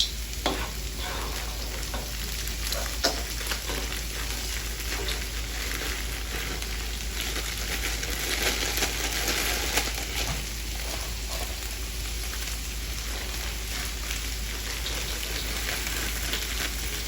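A vegetable stir fry sizzles steadily and loudly in a pan with vegan butter, a continuous crackling hiss with occasional stirring scrapes and no talk.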